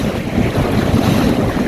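Strong wind roars across a heeling sailboat at sea as it speeds through waves, a loud, rough, continuous rush with buffeting gusts and low rumble close by.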